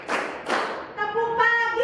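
A class claps a rhythm pattern: two sharp, close clap bursts, then a voice speaks briefly at the end.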